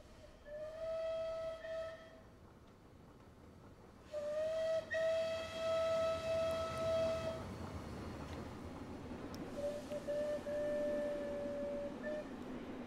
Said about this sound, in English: We got that whistle back again!